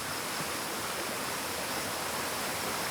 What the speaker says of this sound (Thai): ลานกลางเต็นท์กลางหุบเขา ติดลำธารนน้ำไหลแรงมาก